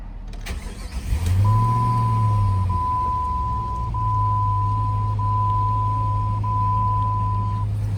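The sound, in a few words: car engine starting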